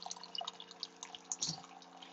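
A home coffee maker brewing, with steady trickling and irregular dripping water close by, plus a soft gurgle near the end; no voices.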